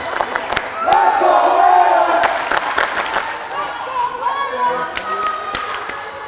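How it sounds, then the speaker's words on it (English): A very vocal home crowd cheers on its squad at a Nantucket Whalers versus Falmouth Clippers volleyball match, loud roaring and chanting mixed with sharp thumps of the ball and squeaks from the court. "Again, a very vocal crowd in front of us here, cheering on their squad"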